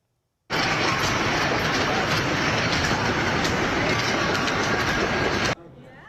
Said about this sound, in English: that is the sound of the hail hitting that dome guests and employees heard inside